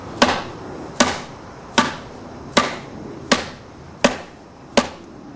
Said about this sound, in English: just getting a little 2-pound hammer